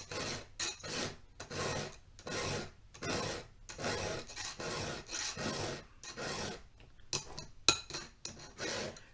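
Hand file rasping across a chainsaw chain's cutters, with repeated rhythmic strokes in bursts and short pauses between them, close and fairly loud, plus an occasional metallic clink.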